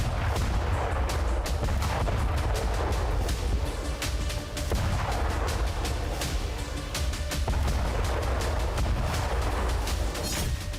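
Heavy military strikes rumble and boom in a dense, continuous barrage, with repeated sharp blasts and crackling gunfire-like bursts over a constant loud low roar throughout.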